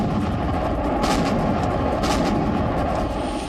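Artillery fire near the Russia-Ukraine border, a dense rumbling roar with two sharper booming bursts in quick succession, loud and continuous with no voices.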